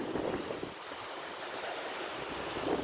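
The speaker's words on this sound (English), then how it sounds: "Just a sandy beach, blue water, perfect." Waves wash onto a sandy beach in Fuerteventura in the Canary Islands, a constant close rush of surf under gusty wind noise on the microphone, swelling slightly at the end, with no one talking.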